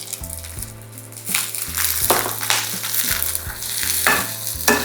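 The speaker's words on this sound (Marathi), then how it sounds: "आता आपला कांदा परतवून झाला की यामध्ये आपल्याला धने टाकून घ्यायचे" Onion, coriander seeds, ginger, garlic and dried red chillies sauté in a pan for a Puneri misal, with a steady close sizzle and repeated scraping strokes of a spoon stirring through the mixture.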